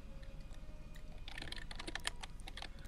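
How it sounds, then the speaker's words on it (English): Computer mouse right-clicking during a game, a run of quick faint clicks bunched together over a low rhythmic background hum, no voices. "just keep right clicking it"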